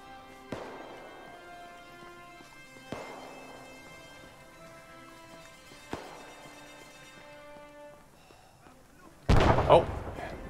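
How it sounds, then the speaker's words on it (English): Several distant booms ring out at a steady interval, then one loud, sharp grenade blast bursts up close near the end, all in the military shooter Arma 3. "Grenade exploded in front of us"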